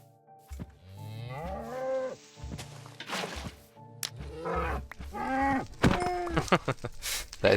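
Several loud cattle moos with rising and falling harmonic tones, spaced across the stretch with short gaps between calls, close to the listener and with no talking over them.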